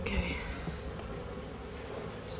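Dense, steady buzzing of many honey bees from a package being installed into a hive fills the clip, close and continuous with no pauses.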